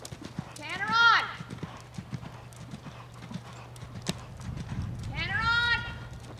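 A horse canters in a riding lesson at a farm, its hoofbeats drumming at a steady rhythm. A whinny-like call is heard twice, and an instructor's voice talks over the hoofbeats at intervals.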